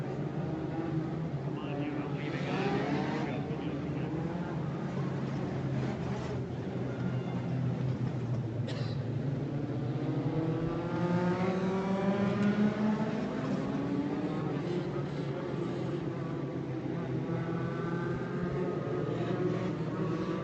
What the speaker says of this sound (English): This will give our cars a chance to get relined up in their correct starting order and give Blazel a chance to go to the back